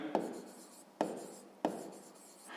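Pen strokes in a notebook while working a sixth-grade math exercise: three distinct scratchy writing strokes close by, each starting sharply and fading, in a quiet room.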